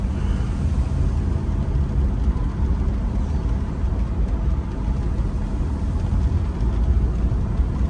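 A 1984 Mercedes-Benz 300SD turbo diesel with a blown turbo drives along, giving a steady, close, heavy low rumble of engine and road noise that holds evenly throughout with no talk.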